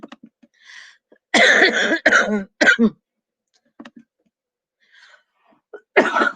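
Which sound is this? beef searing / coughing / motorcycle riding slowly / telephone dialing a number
coughing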